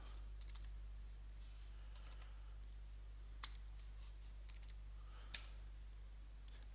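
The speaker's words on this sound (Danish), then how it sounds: "og så skriver jeg lige min kode." Password keys tapped on a computer keyboard at a login page, a sparse run of light clicks with a couple of sharper strikes, quiet and close over a steady low hum.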